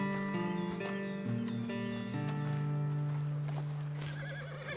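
In Red Dead Redemption 2, a horse gives one long, loud, wavering whinny that slides in pitch, with faint hoof clops underneath and no speech.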